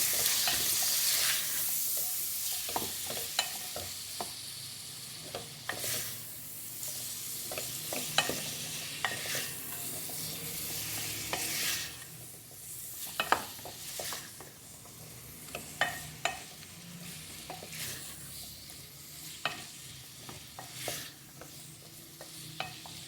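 Potatoes and carrots with salt and turmeric are stirred in a pan, a soft continuous sizzle broken by repeated scraping clicks of the spoon, fairly quiet and close.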